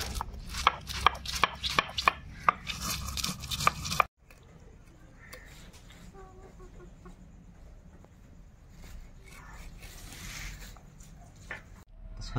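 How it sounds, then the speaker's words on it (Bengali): A knife chops taro (gathi kochu) in a burst of sharp, rhythmic close thuds on a board, then stops, leaving quiet background with a hen clucking faintly in the distance. "তা বোন কচু ছেড়ে দিয়েছে আর আমি কচুগুলো কেটে নিই।"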